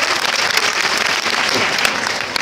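Audience applause at a Nirankari children's quiz gathering in Ghaziabad, dense and steady throughout with a few sharper individual claps standing out, fairly close and with no talking.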